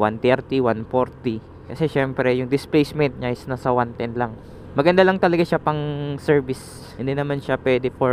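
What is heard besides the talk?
None of the usual background noises is heard.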